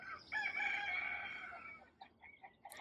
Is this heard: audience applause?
no